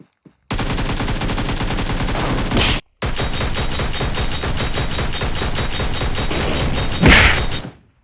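Two long, loud bursts of automatic gunfire in PUBG Mobile, close and sustained, split by a short gap near the middle, with no talking.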